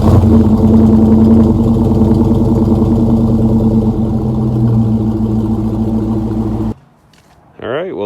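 Engine of a 1996 Dodge Dakota truck drones loudly and steadily up close while driving, a constant mid-pitched hum that cuts off abruptly near the end before a brief whine returns.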